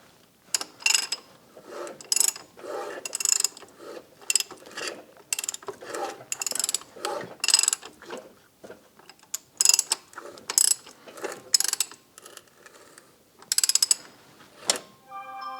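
Mechanical clicks and ratcheting from an Audi engine being turned by hand near top dead center, loud, close bursts repeating irregularly with short pauses between them.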